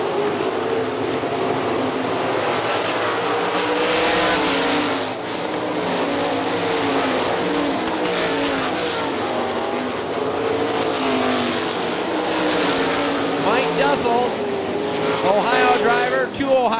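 Sprint cars race on the dirt oval at Hartford Speedway Park, their engines snarling in a continuous, loud wash of revving and passing cars, with rising and falling pitch sweeps, while a race announcer talks over the noise.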